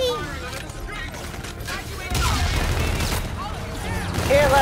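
Rapid fusillades and booming bursts from space-battle guns in Call of Duty: Infinite Warfare, loud and sustained over game music, growing heavier toward the end.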